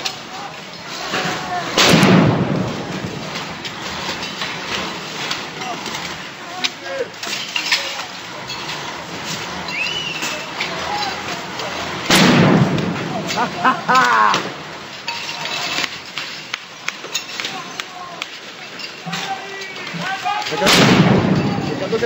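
Three loud blasts go off at intervals during a street riot in Milan as police clear a community center, each sharp boom followed by clinking debris, with shouting voices and crowd noise between them.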